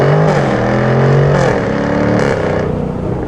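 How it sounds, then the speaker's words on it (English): A supercharged V8 in a 2024 Jaguar F-Type R75 accelerates at full throttle from a standstill, its loud, close engine note climbing through quick upshifts with brief dips between gears. "I'm gonna floor it."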